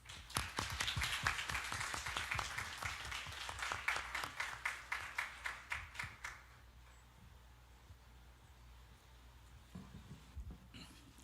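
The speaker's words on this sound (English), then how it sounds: "Let us all give a warm applause to our chief guest" Enthusiastic applause from a symposium audience, dense rapid clapping for several seconds that thins out and fades, leaving a quiet room with a few faint sounds.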